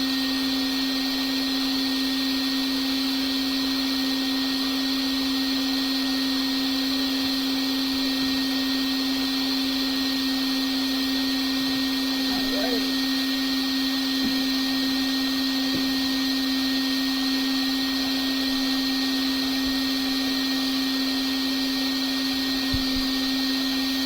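A hair dryer runs with a steady, high-pitched motorized whir, droning continuously at an even level throughout, close by, with a few faint clicks and no speech.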